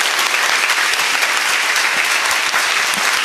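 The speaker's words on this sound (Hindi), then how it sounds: "और जोर से ताली बजाओ हमारी भवभूति मैया के लिए।" Audience applause at a Hindi devotional bhakti gathering, a short burst of dense, loud clapping from many hands, steady and continuous with no voices over it.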